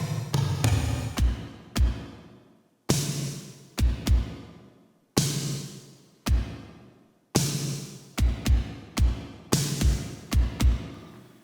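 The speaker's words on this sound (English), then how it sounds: "So the bass drum, snare and toms are made with the Jomox Airbase drum machine." Powerful rock drums from a Jomox Airbase drum machine, bass drum, snare and toms drenched in heavy reverb, in a driving pattern of booming hits with long decaying tails, loud and without voices.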